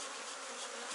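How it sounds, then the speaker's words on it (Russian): Honey bees lift off hive frames during a hive inspection, a dense, continuous close buzzing swarm drone that stays steady and fairly quiet throughout, with no voices. "на меня пчелы не садятся, не жалят, взлетают, да."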